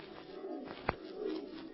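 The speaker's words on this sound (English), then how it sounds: "Yes, that was just an old screech owl. There it is again." A screech owl call used as a sound effect in a 1943 radio drama: a brief, low, cooing bird call with a sharp click in the middle, faint and heard alone.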